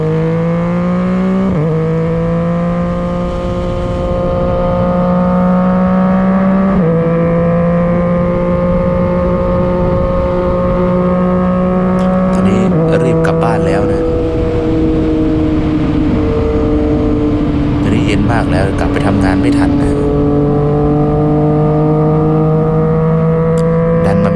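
A close MT-09 motorcycle engine drones and revs through several gear shifts, pitch climbing and dropping in steps as it pulls away, steady and loud throughout.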